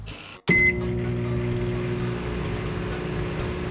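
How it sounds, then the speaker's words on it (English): A microwave oven heating a protein mug cake starts with a sharp click and short beep, then settles into a constant low, loud humming drone with no talking. "we have to microwave for 60 seconds"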